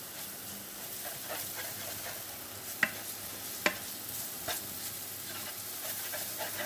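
Onions frying in a pan give a continuous sizzling hiss, broken by two distinct spoon taps against the pan and soft stirring scrapes throughout.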